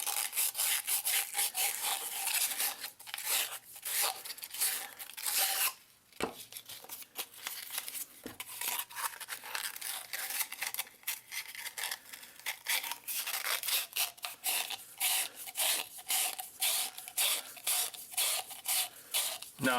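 Hand sanding of a Tapco vertical grip with 150 grit sandpaper makes a steady run of close, rapid scratchy strokes, continuous and rhythmic with only a brief pause partway through and no talking.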